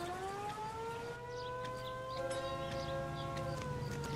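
A wailing ambulance siren in the 1940s Los Angeles crime video game L.A. Noire holds a steady, rising-and-falling tone, moderately loud and continuous, with no talk over it.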